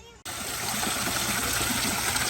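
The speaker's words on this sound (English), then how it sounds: "Nice naturalistic waterfall here" A naturalistic waterfall at an animal sanctuary pours in a constant, close, full-bodied rush of splashing water that starts abruptly and continues steadily.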